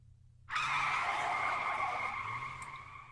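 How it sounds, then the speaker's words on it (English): Taxi tires squealing around a corner in the game 428 Shibuya Scramble: one sharp, sustained screech that starts abruptly, holds loud for a couple of seconds, then slowly fades. "The taxi's tires squealed as the cab rounded a corner."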